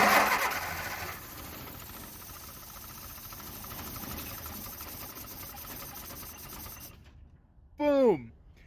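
An old car engine, unstarted for 26 years, cranks over by a jumped starter solenoid with a long steady whirring rumble, then catches in a brief loud burst whose pitch drops away near the end.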